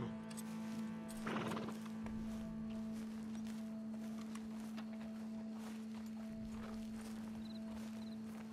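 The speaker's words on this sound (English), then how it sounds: "My horse just fucking following me around." A horse whinnies briefly near the start in Red Dead Redemption 2, then soft hoof clops and rustling continue over a steady background hum.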